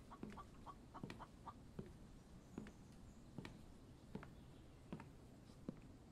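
Soft, repeated clucking from a chicken in the video game The Infected, short sharp calls spaced irregularly over a quiet background.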